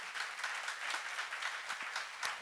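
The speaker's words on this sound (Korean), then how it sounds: "박수 좀 세게 쳐봐 남자들이." Steady applause from a crowd, dense clapping filling the whole stretch at a moderate, even loudness with no talking.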